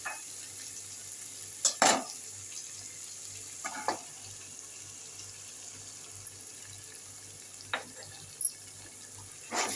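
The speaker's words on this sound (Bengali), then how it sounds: "ভালো করে নেড়ে চেড়ে নেব।" Tomato and onion paste fries in a pan with spices for a potato-and-egg curry, a faint low sizzle broken by a few soft stirring scrapes.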